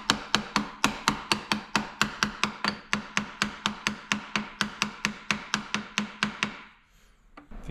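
Steady, evenly spaced metal hammer blows driving a seal into a Chevrolet Suburban transfer case, about two dozen sharp close strikes in a regular rhythm, then stopping into quiet.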